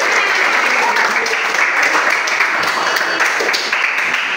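A classroom group claps in rhythm, a steady dense burst of many hands close by that fills the whole stretch loudly, with voices mixed in under the clapping.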